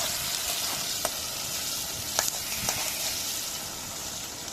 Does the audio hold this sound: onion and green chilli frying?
yes